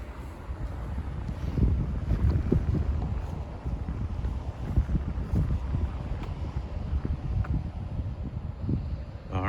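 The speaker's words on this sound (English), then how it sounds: "It's a cold, windy day in Toyama," Wind gusts buffet the microphone in low rumbling bursts on a cold beach in Toyama, Japan, with a steady wash of outdoor noise that rises and falls throughout.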